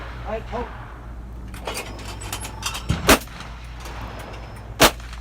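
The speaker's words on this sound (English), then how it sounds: "this is a 20 gauge shotgun" A 20 gauge shotgun fires during skeet shooting, two sharp cracks several seconds apart at moderate distance over outdoor background noise and faint talk.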